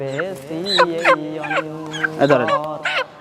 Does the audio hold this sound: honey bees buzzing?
no